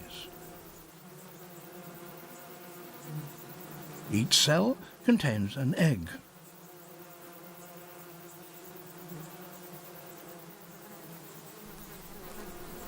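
A steady, low insect hum from a honey bee colony of about 10,000 bees fills the background, with a brief louder burst near the middle while a person speaks over it.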